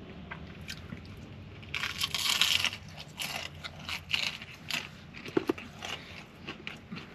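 Someone bites and chews crunchy Detroit style pizza while stealth camping, with close, crackly crunches and wet chewing sounds coming in bursts, louder in the middle of the stretch, with no talk.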